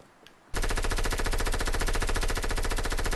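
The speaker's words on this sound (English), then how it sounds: "Is that shooting at us?" Sustained rapid machine-gun fire in a shooter video game bursts in after a short quiet moment and runs on loud and unbroken, with no voices over it.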